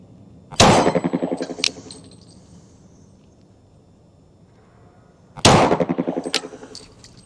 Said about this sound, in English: This will be the Sig 229 double action only on the flipper plate from 15 yards with the 180 grain full metal jacket practice ammo